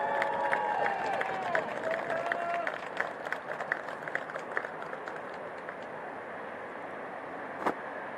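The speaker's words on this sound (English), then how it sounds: "One more round of applause for your 2025 LTU Women's Lacrosse Senior Class" Spectators at a women's college lacrosse Senior Day clap and cheer outdoors, scattered and fairly distant, with some muffled voices and a whistle-like tone early on.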